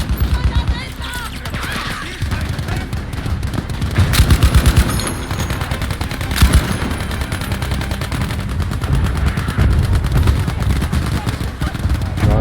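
Dense gunfire in Battlefield V, rapid machine-gun bursts and sharp shots piling up with louder blasts around the middle, while players talk excitedly over the fighting.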